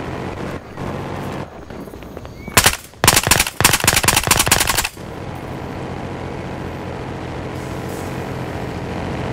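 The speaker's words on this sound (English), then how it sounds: "Taking sniper fire!" Gunfire in Battlefield Hardline, a loud close burst of rapid automatic shots lasting about two seconds, preceded by a single sharp crack, over a steady background of game ambience.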